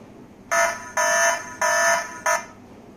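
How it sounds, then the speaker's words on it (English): A Tuya-compatible smart humidity and temperature sensor sounds its alarm in four loud, shrill electronic beeps, each lasting about half a second, in an uneven rhythm against a quiet room. "the alarm gets triggered, so I can show you how it sounds"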